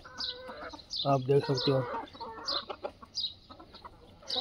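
Pure Aseel fighting roosters cluck and call close by in a free-range farmyard, a burst of loud clucks in the middle with softer chirps around it, under a man's speech.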